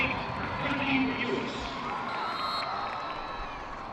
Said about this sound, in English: Holiday will get a round of applause as well.